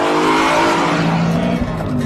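A BMW M3 accelerates hard under power, its loud engine roaring close and steady with a rising, raspy note for a couple of seconds.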